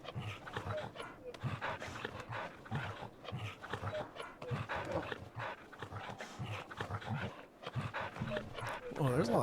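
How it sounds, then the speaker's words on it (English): Dog panting and whimpering from a game session, heard as steady breathy panting with soft whines running throughout under continuous talk from people on a voice channel. "Oh, there's a lot of dog noises."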